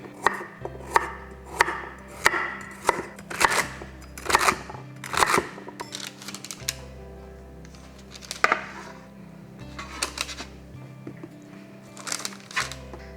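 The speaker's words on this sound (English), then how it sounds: "I like to chop these into pretty big chunks, and I'm only using about half of the onion." Crisp knife chops on a cutting board as half an onion is cut into big chunks, with quick bursts of close, loud thuds broken by short pauses.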